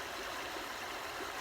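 River water flows steadily beside a hiking trail, a dense, even rushing wash that fills the short moment alone with no voices over it.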